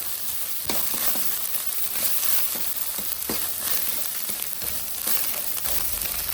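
Onions fry in hot oil for a dhaba-style capsicum curry, giving a loud, steady sizzle close up with occasional stirring clicks and no talking.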